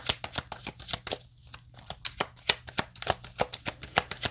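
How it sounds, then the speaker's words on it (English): Tarot cards being shuffled in a series of quick, crisp riffles and taps, with brief pauses between bursts; close and moderately quiet, no talking. "I'll do three more shuffles."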